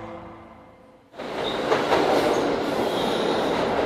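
A New York subway train roars up suddenly after a quieter stretch, then keeps running loud and steady with a rushing, rumbling rattle of wheels on rails.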